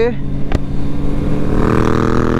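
A motorbike accelerates steadily on a test ride, its engine note rising in a smooth, linear climb, close and loud, with someone talking over it.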